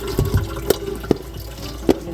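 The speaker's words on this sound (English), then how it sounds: "we're gonna go to the sink and get this rinsed out" Water from a kitchen sink tap splashes and trickles over chopped zucchini relish mix in a colander, a steady close rush punctuated by a few soft knocks and drips.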